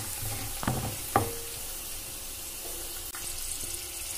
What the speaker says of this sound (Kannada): ನಾನೀಗ ಕೊಬ್ಬರಿನ ಹಾಕ್ತಾ ಇದ್ದೀನಿ